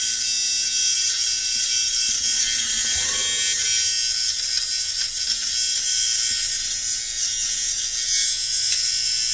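An electric ear and nose hair trimmer runs close by with a steady, high, even buzz, unbroken for several seconds and with no talk over it.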